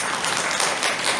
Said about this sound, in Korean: 다 같이 박수 한번 주시고